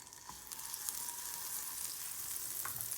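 Butter sizzles softly in a frying pan for a breakfast sandwich, a faint, steady crackle with a few small pops, heard close and alone.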